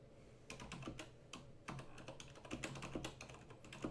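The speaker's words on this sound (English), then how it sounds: "Sorry, needed to do a little typing," Quiet, close clicking of keys on a computer keyboard, in irregular bursts of fast typing with short pauses and no talking.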